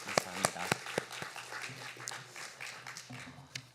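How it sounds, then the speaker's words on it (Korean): A congregation at a New Year's Eve church service at Hyangdong Church claps faintly: distinct, scattered claps in a loose rhythm with a voice underneath. "박수로 하나님 앞에 영광 올려드리겠습니다."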